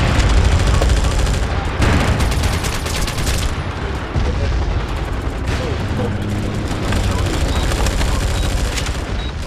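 Dense video-game gunfire from a platoon-style shooter, rapid bursts and booms from a player firing while on the move, loud and continuous with heavy low-end rumble throughout.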